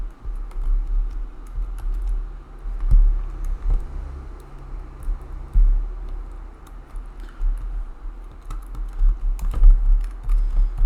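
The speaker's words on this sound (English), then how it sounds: "You can type more content right here in the case that you want." Steady typing on a computer keyboard, a close continuous patter of light key clicks with small variations in pace and no speech over it.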